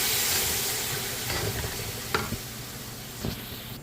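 Chopped seasoning of thyme, hot pepper and pimento with seafood mix cooks in a curry king fish stew pot, a loud steady hiss and sizzle with a couple of spoon knocks and stirs, no talking.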